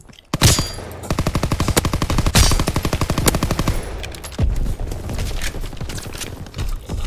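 Rapid bursts of automatic gunfire in a WW2 video game, a dense rattling stream of shots with a few sharp single cracks, loud and close, with no talking.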